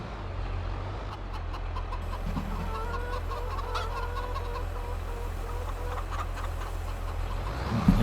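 Chickens clucking in the farming video game Farming Simulator 22, a flock of steady repeated clucks under a constant low engine-like hum, moderately loud throughout.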